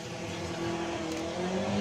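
Drag racing cars roar at full throttle down the strip at Santa Pod, a loud, steady engine blast with rising pitch and no talk.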